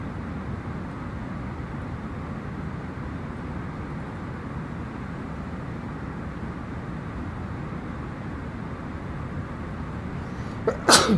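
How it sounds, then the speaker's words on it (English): A single sharp sneeze bursts out at the very end inside an easyJet Airbus A320neo cockpit on an Edinburgh–Birmingham flight, following a long, steady, loud engine and airflow drone. "Excuse me, I'm going to sneeze there."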